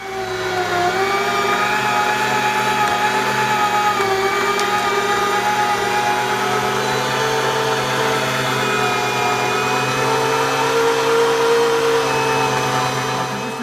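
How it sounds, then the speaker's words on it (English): An electric meat grinder runs steadily while grinding brisket for burgers, a loud continuous motor drone with a constant whine and no pauses throughout. "And then I'll turn this thing on and start to grind this meat."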